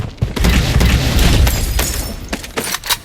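RPK light machine gun firing in the shooter game Blood Strike, a heavy, rapid, booming burst of automatic fire that runs nearly continuously, loud and close, with short gaps toward the end.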